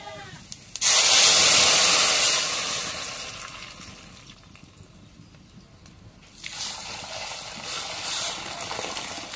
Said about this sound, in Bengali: এখন ডালগুলো দিয়ে দিই